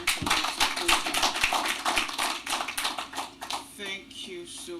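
An audience at a telecom industry conference in Nigeria claps steadily for several seconds, a dense patter of hands that gradually thins out, with a speaker talking over it.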